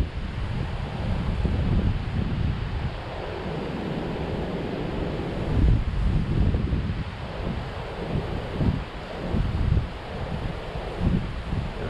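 Steady wind blustering across the microphone at the Pape canal, a continuous low roar with gusty swells and buffeting thumps, no voices.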